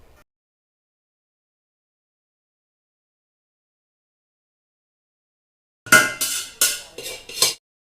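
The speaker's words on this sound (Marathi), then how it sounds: "मला कुकर घासून ठेवायचा होता लगेच" A pressure cooker is scrubbed in a quick run of about five harsh metallic scraping strokes, close and fairly loud, after a long silence.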